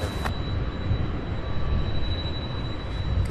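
An MD-11 jet taking off, a steady broadband engine roar with a faint high whine, continuous and fairly loud throughout.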